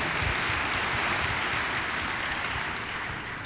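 Audience applause at a university plenary session, a dense steady clatter of many hands clapping that holds for several seconds and fades slightly toward the end.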